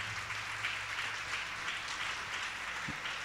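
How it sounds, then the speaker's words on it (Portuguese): A church congregation applauds during a worship service, a steady wash of clapping heard faintly from a distance, with no voices over it. "Vamos aplaudir o Senhor Jesus,"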